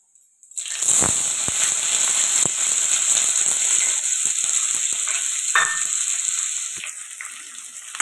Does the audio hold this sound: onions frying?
yes